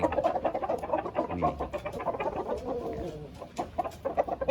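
Several chickens cluck and chatter close by in a busy, overlapping flock inside a rooster farm coop, with short repeated calls throughout.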